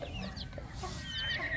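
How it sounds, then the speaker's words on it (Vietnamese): A chicken clucking on a Vietnamese farm among corn plants, short repeated clucks close by over steady outdoor background noise, with no talking. "Đố bà gái biết con này gà mái gà trống."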